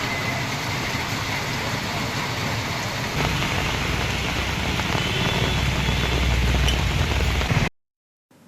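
Light drizzle falls outdoors as a soft, steady, hissing wash that stays even for several seconds and then cuts off abruptly.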